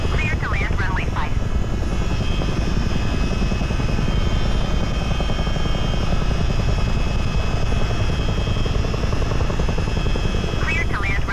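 A US Army Chinook twin-rotor helicopter in Microsoft Flight Simulator VR drones continuously with a loud, steady rotor thrum and engine whine, with brief radio-style chatter at the start and end.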